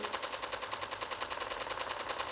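Assault rifle fire in Call of Duty Mobile, a rapid continuous automatic burst with evenly spaced shots, steady and fairly loud throughout with no talk.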